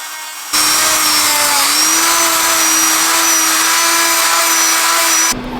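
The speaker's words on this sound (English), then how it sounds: "we're just using the Dremel there to sort of grind away" A Dremel rotary tool grinds the cylinder head fins of a Honda XL 250R motorcycle under restoration: a loud, steady, high whine that starts abruptly, holds for about five seconds, then cuts off.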